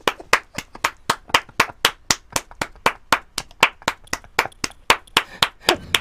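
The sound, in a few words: clapping in the video game WWE 2K15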